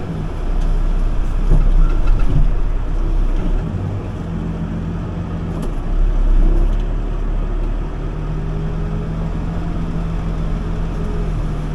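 A backhoe digs footings in Ninnekah, a loud, close, continuous diesel engine drone that swells and eases as the machine works, with occasional clanks and no talking.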